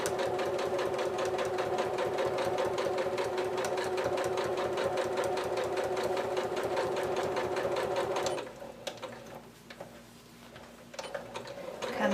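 Sewing machine stitching the short end of a small fabric mini wallet with elastic caught in the seam, a steady rapid close-up whir for about eight seconds, then it stops and only faint handling noises remain.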